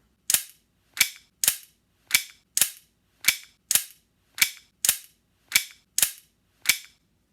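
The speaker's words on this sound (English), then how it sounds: "If you're a fan of slide dropping ASMR" Airsoft Glock slide dropping forward, twelve sharp metallic snaps spaced unevenly about half a second apart, close and loud against silence.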